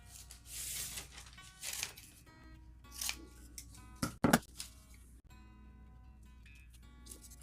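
Scissors snip paper while altered playing card art is assembled, a few crisp close cuts with a louder burst of snipping near the middle, amid quiet rustling and handling of paper.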